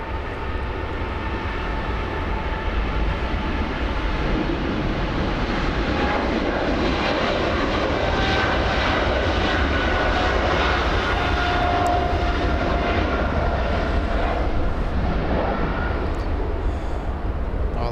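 A Beechcraft King Air turboprop touches down at about 105 to 110 knots. Its strong, droning engine roar carries steady tonal propeller whines, stays loud and close, and rises slightly toward the middle, with no speech.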